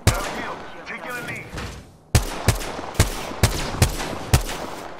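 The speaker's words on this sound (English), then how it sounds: "I am taking fire, friends." Apex Legends gunfire, a burst of shots followed by six sharp, evenly spaced loud reports, with faint in-game chatter early on.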